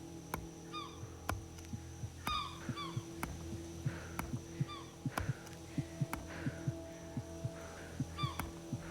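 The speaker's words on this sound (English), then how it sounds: "Hearing the little cicadas chirping at you." Night ambience in the video game ARK with small repeated chirps from cicadas over a steady hum and soft rhythmic thumps, insects fairly faint and recurring every second or so.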